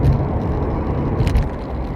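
A car passes on the road, heard from inside a moving vehicle as a loud, steady broadband rumble and road roar with a brief swell of noise midway, no talking.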